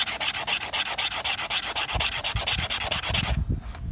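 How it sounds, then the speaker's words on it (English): A blade scrapes dirt bike plastic to take off the top faded layer, a loud, close, rhythmic rasping with about five quick strokes per second that stops abruptly near the end, with no voices. "you're just gonna scrape like this"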